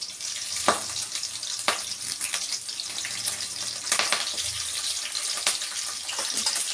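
Fresh curry leaves hit hot oil in a pan, giving a loud, crackling sizzle with sharp pops and spatters that settles into steady frying hiss, with no voices over it.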